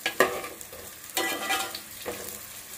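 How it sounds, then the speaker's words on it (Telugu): Onions frying with spices in a pan for Rayalaseema-style bagara rice, stirred in three distinct scraping bursts over a soft background sizzle, close and fairly quiet. "ఆనియన్స్ కొంచెం ఇంకొంచెం బ్రౌనిష్ గా వచ్చేటట్టుగా ఫ్రై చేసుకోవాలి"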